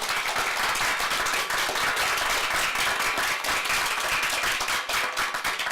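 Dense, steady applause from an audience at an Auckland council development committee meeting, loud and continuous throughout with no pauses and no talking.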